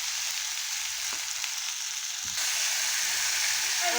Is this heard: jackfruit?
yes